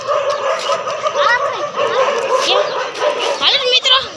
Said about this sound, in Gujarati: બે કૂતરાની ફાઇટ થઈ